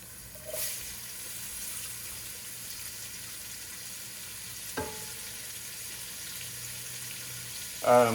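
Jalapeños sautéing in a pan for a vegan paella give a faint, steady sizzle throughout, with a soft knock or two from the pan.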